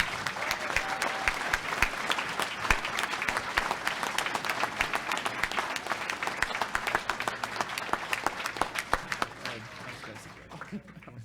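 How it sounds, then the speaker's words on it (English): Audience applause after a request to honour three individuals, dense continuous clapping from a crowd lasting about ten seconds before tapering off. "So please, a round of applause for each of them."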